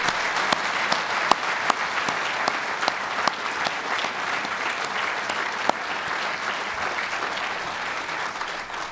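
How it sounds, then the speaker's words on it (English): Audience applause at a science building ribbon cutting ceremony: steady, fairly loud clapping from a sizable crowd that sustains evenly throughout, with a few sharper individual claps standing out. "I'd call for a round of applause just for that."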